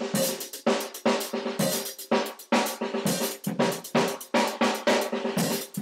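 A drum kit plays an open-handed linear groove in 11, a steady run of crisp hits in an uneven repeating pattern, close and clear with no voices.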